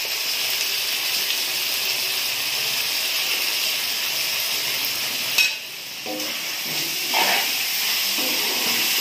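Chilli powder fries in hot oil with salt in a mango chicken curry, producing a loud, continuous sizzle and hiss, with a short stir or scrape partway through and no voices.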